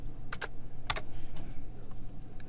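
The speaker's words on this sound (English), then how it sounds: "you can start typing in the 8-digit TMK code" Keys on a computer keyboard are struck in a short, sparse burst as an 8-digit code is typed, a few crisp close taps spaced irregularly over a quiet background hum.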